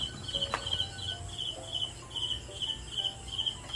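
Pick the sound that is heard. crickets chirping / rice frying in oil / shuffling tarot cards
crickets chirping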